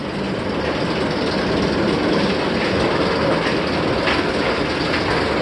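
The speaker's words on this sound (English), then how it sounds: "Looks like we got another train going." The Firebird roller coaster train at Six Flags America rumbles along its track with a continuous heavy roar and faint rhythmic clatter, loud and sustained throughout.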